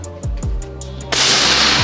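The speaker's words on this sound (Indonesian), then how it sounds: "Sekarang kita coba cek untuk tembakan yang pertama." A PCP Marauder FX air rifle fires a shot, heard as one loud, sharp crack followed by sustained broadband noise. A few faint clicks come before it.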